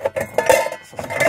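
Pots, pans and cutlery clink and clatter as kitchen gear, including dishwashing liquid, sponges and a saucepan, is handled in a minivan camper fit-out, with irregular close knocks.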